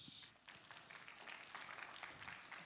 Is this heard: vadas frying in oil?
no